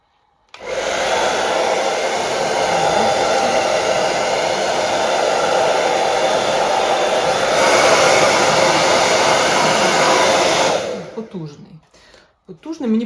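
A hair dryer, one with thermal protection, whirs loudly and steadily for about ten seconds, its pitch shifting slightly midway, then cuts off, followed by brief talking.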